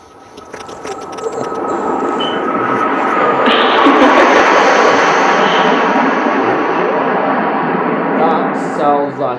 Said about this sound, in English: That sounds like a low-flying plane.